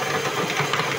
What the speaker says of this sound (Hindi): इसको अब हम जूसर में डालकर ब्लेंड कर लेते हैं